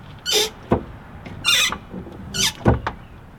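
Rhythmic high-pitched squeaks repeat three times in a steady cycle, each with a soft clunk, like a squeaky pedal turning close by.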